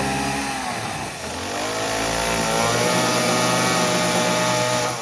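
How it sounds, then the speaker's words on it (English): A chainsaw cuts the ends off roof timbers during a house extension, giving a continuous loud buzzing drone whose pitch dips briefly and then climbs and holds steady under load, close by with no speech. "Mark is currently chopping off the ends with the chainsaw"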